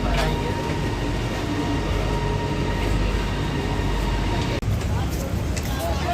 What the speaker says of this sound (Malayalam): മെട്രോ വന്നിട്ടുണ്ട്. Entering to metro Malaysia, metro Kuala Lumpur.